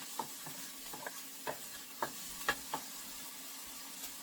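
Paneer bhurji with onion and tomatoes is stirred in a pan over a low sizzle, a spoon tapping and scraping in a loose rhythm of about ten soft knocks.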